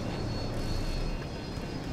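Steady, loud roar of a jet aircraft engine in the Battlefield 2042 video game, a continuous broadband rush with no voices over it.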